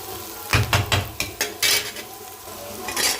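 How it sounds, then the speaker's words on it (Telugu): Masala of onion, tomato, chilli powder, turmeric and salt being fried and stirred in a pan, with close scraping and clinking of a utensil against metal in several bursts over a soft sizzle, no talk. "పచ్చివాసన పోయేంత వరకు బాగా ఫ్రై చేసేసుకొని టమాటా, కారం, పసుపు, కల్లుప్పు అన్నీ వేసేసుకుందాం"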